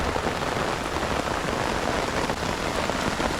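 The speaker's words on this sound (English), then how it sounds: "It's raining pretty good." Heavy rain pours steadily onto an awning, a dense continuous hiss of drops with no pauses.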